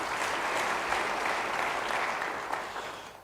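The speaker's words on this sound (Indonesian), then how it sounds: "Beri tepuk tangan bagi dia." Sustained congregational applause at a church service, a dense wash of many hands clapping that tails off toward the end.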